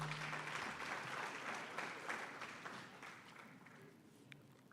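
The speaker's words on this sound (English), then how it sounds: "Please give him that round of applause." An audience claps a round of applause for a presenter at a graduate reskilling and career summit, a dense steady wash of many hands that slowly fades toward the end.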